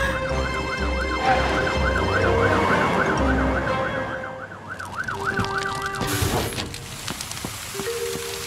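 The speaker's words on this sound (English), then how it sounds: "They're brumming too loud to hear Fiona's siren!" A cartoon fire truck's siren wails in a fast, repeating rising-and-falling pattern, loud and close for several seconds, then cuts out, leaving engine-like rumble and clatter with brief tonal bits.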